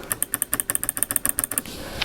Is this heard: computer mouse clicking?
yes